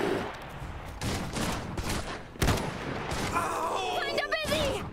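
Bursts of gunfire ring out in the strategy game Iron Harvest, sharp rattling volleys and single cracks amid battle noise, with someone talking over the action.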